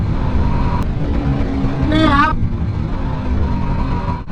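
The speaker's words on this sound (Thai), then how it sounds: "เราจะทดสอบเบรกให้ดูว่าข้างหลังไม่มีรถตามมานะครับ ผมเบรกครับ" A Honda CBR150R sport motorcycle, 2021 model, braking hard during a road test, with steady engine and road rumble, a brief squealing tone in the middle, and a rider talking over it.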